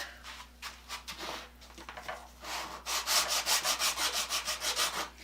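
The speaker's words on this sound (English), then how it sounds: "I'm going to take some sandpaper and roughen up that varnish on there." Sandpaper rubbing over varnished wood to roughen the finish, steady back-and-forth scratchy strokes close by, quickening into a regular rhythm in the second half.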